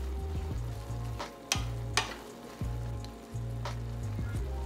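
Kale is stir-fried in a pan, a soft steady sizzle broken by a few sharp scraping and clattering stirs, close and fairly quiet with no talk.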